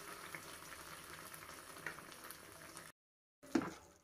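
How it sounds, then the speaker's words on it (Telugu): Sauce for soya chilli manchurian, thickened with cornflour water, bubbling and frying in a pan while being mixed, a soft steady simmer cut by a short silent gap, then a louder stir, with no talk. "కార్న్ ఫ్లోర్ వాటర్ వేసి ఈ విధంగా థిక్గా అయ్యేలాగా మిక్స్ చేయండి."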